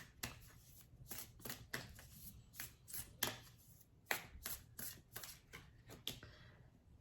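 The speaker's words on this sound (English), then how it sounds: "I'm going to now pull from the Moonology Oracle cards" Moonology Oracle cards being shuffled by hand, a quick run of crisp riffling bursts with short pauses between, close and fairly quiet with no talking.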